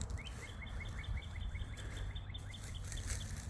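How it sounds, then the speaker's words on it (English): Spring birds singing outdoors in South Carolina among blooming peach trees, a fairly faint, rapid series of repeated high chirps carrying over a low background rumble. "Birds singing, sun shining"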